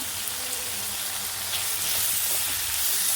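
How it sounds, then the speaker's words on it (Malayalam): Onion, curry leaves and green chili sautéing in a hot pan, a steady close sizzle and crackle of frying that holds evenly throughout with no talk. "ഒരു പൊടി സവാള, കറിവേപ്പിൻ്റെ ഇല എല്ലാം കൂടി ഒന്ന് നല്ലോണം വഴറ്റി കൊടുക്കും"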